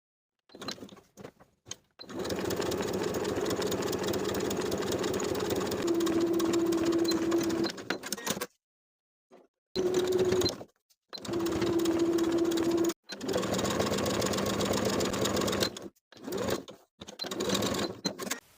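A sewing machine runs in long bursts along a 5/8 inch seam allowance on a Butterick B6566 jumpsuit, steady and close, stopping for several short pauses before starting again.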